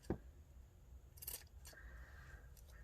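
Scissors snip through a piece of fabric for a collage journal cover, giving a few short, faint, close cuts over quiet room background.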